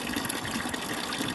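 Water gushes steadily into a potable drinking-water holding tank as the float switch drops and the supply turns back on, a continuous close rushing fill with no voices.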